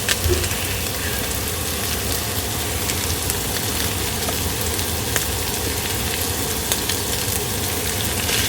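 Ground meat browning in a hot pan for a Bolognese sauce gives a steady, close, even sizzle with faint crackles, continuing without pause and no talking.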